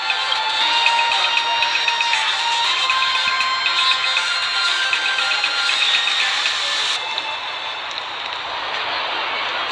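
Dense crowd cheering and shouting at a gathering in Honkai Star Rail, a steady, loud roar with high-pitched whoops that drops slightly after a few seconds but keeps going.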